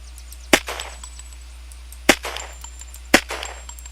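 Three sharp gunshots from a weapon in the game Unturned, spaced unevenly about a second or more apart, each a loud close crack with a short ringing tail and no talk.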